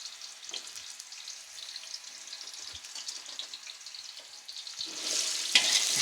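Sliced carrots fry over a high flame for roasted chicken kabuli pulao, giving a steady crackling sizzle that swells louder and fuller toward the end, with no one speaking.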